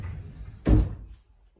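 A sliding door on a custom-built wardrobe is opened, giving one short, close wooden thud that fades quickly into quiet.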